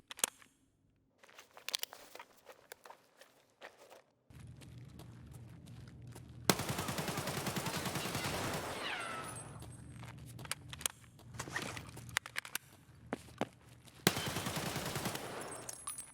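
Gunfire rings out while raiders are killed in Escape From Tarkov, a game, with scattered single shots followed by long loud bursts of automatic fire, close and dense.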